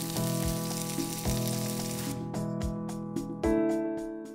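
Food frying in a non-stick pan with a small amount of oil, a steady close sizzle with crackling spits, a clear musical tone underneath throughout and no voices.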